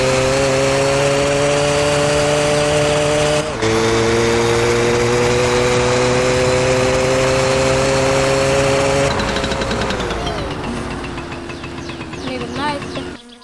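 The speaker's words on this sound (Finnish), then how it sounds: "Ekalla polkaisulla käynnisty." An engine in the My Summer Car game runs after starting on the first kick, a loud steady droning hum that shifts pitch partway through, then fades and sputters near the end.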